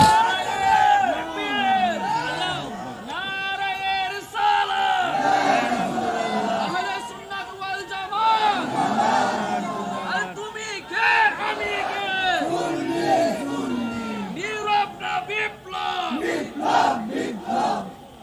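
At a religious gathering, a large crowd chants slogans in loud, rhythmic unison, with repeated collective shouts rising and falling.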